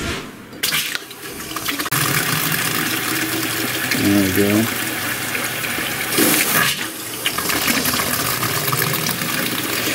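Water gushes and sputters from a household faucet as air is purged from the plumbing lines during a hose bibb replacement, loud and uneven with bursts, while a person speaks briefly.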